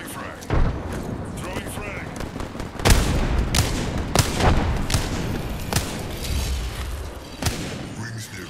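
Apex Legends battle with a frag grenade blast and gunfire: sharp booms and shot bursts at about 0.5, 3, 4.2, 5 and 7.4 seconds over a dense combat din, with voices heard at times.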